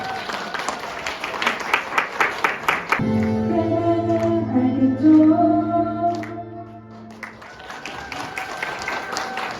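Wedding guests applaud at a ceremony without an officiant, brief clapping that gives way to a sustained instrumental intro before the bride's sibling sings, then clapping resumes at the end.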